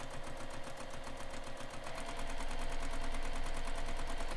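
A sewing machine stitches through a messenger bag in a steady, continuous rapid whir with a fine repeating needle rhythm, close and moderately loud, picking up slightly in pace partway through.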